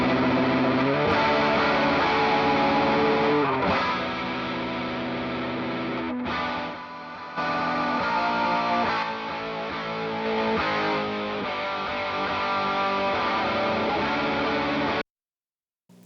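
A reamped electric guitar plays through an amplifier, loud and heavily distorted, sustained chords and riffs for about fifteen seconds that cut off abruptly.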